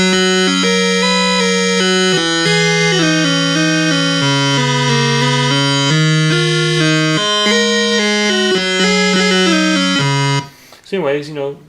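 An ARP Odyssey 2810 synthesizer plays with its oscillators in euphonic mode, producing rich, steady harmonic tones that step through a changing sequence of notes for about ten seconds before a brief burst of speech at the end.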